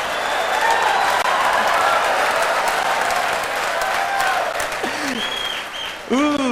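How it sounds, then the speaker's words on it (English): Married men in the audience at a Mark Lowry comedy performance clap loudly and continuously, with crowd voices and laughter mixed through the applause and rising near the end. "the married men are clapping on that one"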